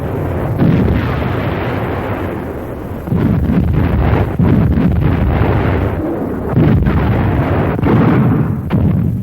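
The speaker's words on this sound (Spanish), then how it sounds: "cañones alemanes de todos los calibres inician su enérgica reacción" German artillery cannons of all calibres firing during the 1944 Normandy landings, heard as a dense, continuous roar of booming blasts and rumbling bursts, loud and close, with no voices.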